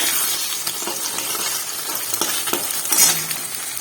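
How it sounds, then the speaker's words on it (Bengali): Egg bhujia scrambling in a kadai: spatula strokes scrape the pan at a steady rhythm over a constant, fairly loud sizzle. "আমি ডিমের ভুজিয়াটা বানিয়ে নেব"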